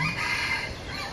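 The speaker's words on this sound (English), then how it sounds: "why is there a rooster here?" A rooster crows nearby, one drawn-out call filling the whole short stretch at steady strength, with no voices over it.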